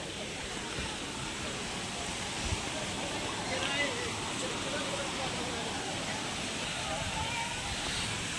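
Napne waterfall in Konkan roars as a continuous broadband rush of water, steady and moderately loud throughout, with no clear voices.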